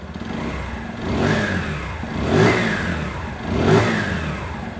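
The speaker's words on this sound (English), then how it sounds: "And there you are, the bike starts up straight away. It does sound quite nice." A Lexmoto Isca 125cc commuter motorbike engine runs close by at a steady idle, with three rising revs spaced about a second apart.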